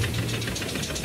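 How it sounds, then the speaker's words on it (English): A Clayton steam traction engine built in Lincoln, a 4-inch-scale model at a steam rally, runs with a steady close mechanical chuffing and knocking rumble, loud and continuous throughout a brief moment. "Clayton traction engine"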